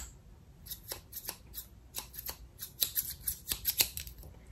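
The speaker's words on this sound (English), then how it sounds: "I'm gonna leave the blade right there, and then the scissors." Crafting scissors from a Cricut tool set snip and clack in a quick, irregular series of crisp clicks, close by and growing busier toward the end, with no talking.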